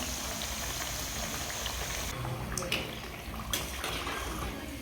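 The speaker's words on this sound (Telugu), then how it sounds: "ఇలా ఒకదాని వెనుక మరొకటి వేసుకుంటూ మీడియం ఫ్లేమ్లోనే మంచి రంగు వచ్చే వరకు డీప్ ఫ్రై చేసుకోవాలి." Karam chekkalu rice snacks deep-frying in oil over a medium flame, a dense continuous bubbling hiss like light rain, with a few faint utensil clinks toward the end.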